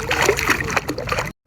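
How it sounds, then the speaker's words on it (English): Dogs splashing in water at a dock, a busy continuous slosh and splatter of churning water that stops abruptly. "someone left their goddamn dogs unattended in the water"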